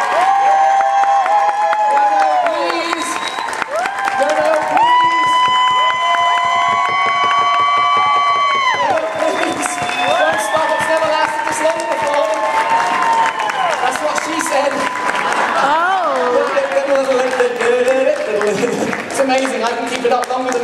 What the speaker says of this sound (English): Clap quickly now!